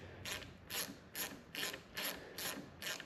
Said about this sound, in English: So we're just going to tighten this up.